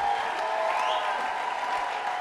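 A church congregation claps in praise of the Lord: steady, sustained applause from a crowd, with a faint held tone running underneath.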